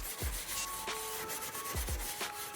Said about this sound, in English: getting it wet with the DE.OX.IT and then scrubbing it with some steel wool